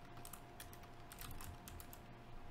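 Quiet typing on a computer keyboard, a steady run of soft key clicks over a low background hum, with no voices.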